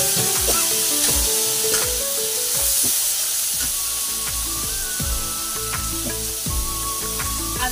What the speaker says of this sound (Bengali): এবার দিয়ে দেবো আলুটা, বন্ধুরা আলু দিয়ে দিলাম।